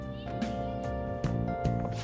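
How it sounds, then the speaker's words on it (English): A cat meows a few times in the video game Persona 5, over a steady tonal background hum, with short repeated mews close by. "I was wondering why I heard meowing."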